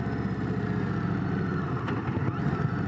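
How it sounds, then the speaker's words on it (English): An Indian Roadmaster Dark Horse 116 motorcycle slowing on engine braking while carrying a passenger, its steady low engine drone running with wind rush and no voices. "This is all being done by engine brake."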